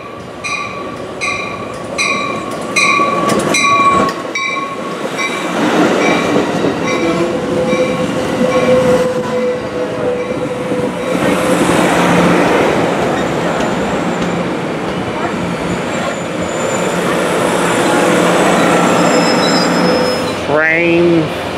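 Train 777 passes at Fullerton, loud and close, with rumbling wheels, clattering rail joints and a brief wheel squeal near the end, and a horn sounds early on; people talk over the passing cars.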